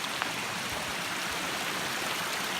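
A small waterfall on a hiking trail up Mount Greylock gives off a steady, even rush of falling water for the whole stretch. It sounds close and moderately loud, with no voices over it.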